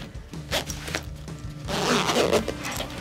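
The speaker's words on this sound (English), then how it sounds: "Zip it up with the double zip." A double zipper on a zip-up hoodie is drawn up in several quick, rasping pulls, close and fairly loud, with a longer continuous zip near the end.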